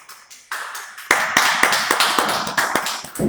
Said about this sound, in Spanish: Dale un fuerte aplauso por eso.